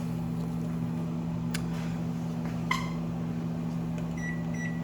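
Microwave oven running a heating cycle with a cup of water inside, a steady low electrical hum throughout, broken by a couple of faint clicks and brief high tones.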